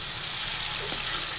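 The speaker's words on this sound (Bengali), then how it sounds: "তো এই যে এখানে হচ্ছে পনির ভাজা বসিয়ে দিয়েছি।" Paneer sizzles steadily in hot oil in a kadai, a continuous close crackling hiss that holds throughout with no voices.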